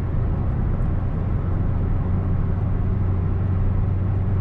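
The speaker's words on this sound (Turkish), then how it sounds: "Bakın hızlandırıyorum şu anda" Steady interior drone from a Renault Clio 3 with a naturally aspirated 1.2 engine and automatic gearbox accelerating, a constant low engine and road hum with no pauses and no talk.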